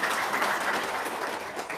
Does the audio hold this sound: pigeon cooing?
no